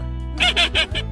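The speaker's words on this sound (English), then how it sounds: "Ducklings." Ducklings give a quick run of three or four high chirping calls, close and fairly loud, over a soft musical backing.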